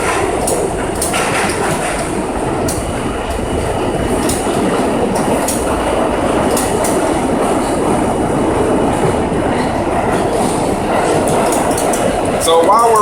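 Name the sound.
train riding on rails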